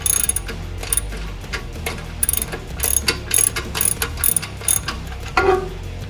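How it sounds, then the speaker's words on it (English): A ratchet with a 16 mm socket loosens a factory bolt on a Jeep JL/JT, producing close, rapid clicking pawl strokes in uneven bursts over a low background hum. "loosen this factory bolt here with a 16 millimeter."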